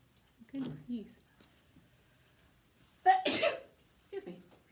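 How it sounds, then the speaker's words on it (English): A single person sneezing indoors, a sharp close burst after a few breathy intakes and faint vocal sounds, with a quieter sound following. "I'm gonna sneeze."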